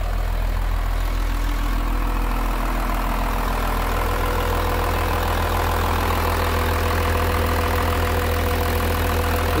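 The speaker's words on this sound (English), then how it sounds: "Now I'm going to go up here to this noisy engine and show you the parts that we replaced." A noisy vehicle engine with a recently replaced fuel pump runs nearby at a steady idle, giving a loud, constant low rumble with a busy mechanical rattle layered on top and no change in pace.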